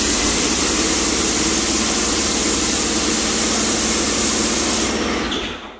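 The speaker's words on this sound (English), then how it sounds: "we'll do a quick practice spray just to make sure it's coming through okay" Wagner Control Pro 250m paint sprayer sprays onto chipboard during a first practice run, a loud, steady hiss over a motor drone that holds for about five seconds and then cuts off.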